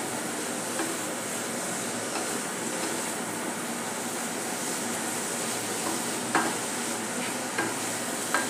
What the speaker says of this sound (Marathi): मीडियम गॅसवर मी हे सुकवून घेते।